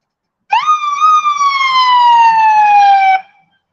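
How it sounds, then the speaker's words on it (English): A police car siren sounds in one loud, close wail of about three seconds, starting with a sharp rise and then sliding slowly downward before it cuts off. "He had no reason to throw on his siren."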